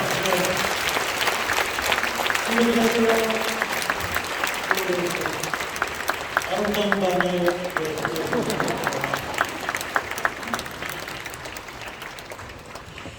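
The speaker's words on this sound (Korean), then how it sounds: "자, 다시 한번 뜨거운 박수로 환영합시다" Warm applause from an audience at a Korean War veterans' appreciation prayer gathering, continuous clapping that gradually thins, with voices speaking over it in Korean.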